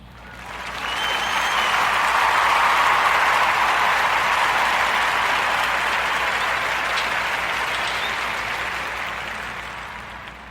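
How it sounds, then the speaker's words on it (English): Audience applause swells quickly into a full, even roar of clapping that holds steady for several seconds before gradually fading away. "round of applause."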